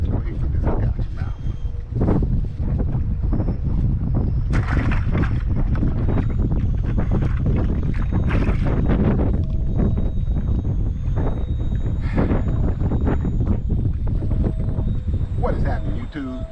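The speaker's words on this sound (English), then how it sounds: "It's windy out here." Strong wind buffets the microphone in a steady low roar while crappie fishing on Lake Oconee, with a voice talking over it throughout.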